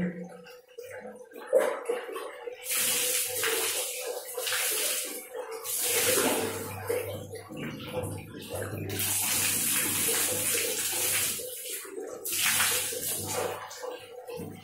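Running tap water splashes as someone rinses their face, with bursts of splashing and flowing water rising and falling in repeated waves, close and fairly clear, with no talk.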